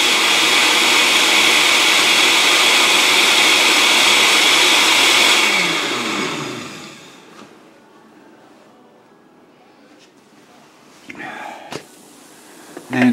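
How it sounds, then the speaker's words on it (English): Blender blending orange dye tablets in water runs loud and steady for about six seconds, then winds down and stops, leaving a quiet room with a few small handling knocks and brief faint sounds. "And I just blend them up again to dissolve."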